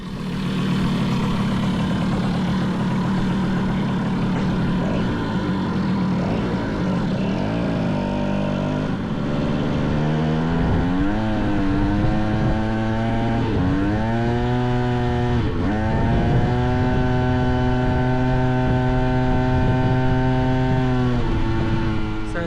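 A Yamaha FS1e moped engine idles with a buzzing drone, then revs up in several rising and falling pulls on its first ride, loud and close, with no talking.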